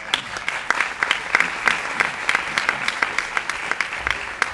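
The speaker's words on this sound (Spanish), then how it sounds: "Un fuerte aplauso." A theater audience at a magic show claps strongly in a brief burst, individual claps standing out as sharp, close, rhythmic hits over a dense wash of applause.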